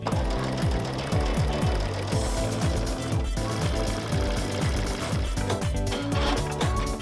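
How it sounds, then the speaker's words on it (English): Sewing machine stitching a quilt block seam, a loud, fast, continuous mechanical chatter with a steady rhythmic pulse that runs without pause throughout, heard up close. "we're going to sew the seam with a 3/8 of an inch seam allowance"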